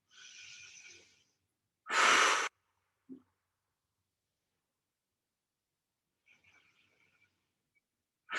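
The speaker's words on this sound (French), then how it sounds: "on prend 2 profondes inspires, expire" Slow deep breaths in and out during a vinyasa yoga session, a long exhale followed by a sharp forceful breath and a softer breath later, each close and separated by silence.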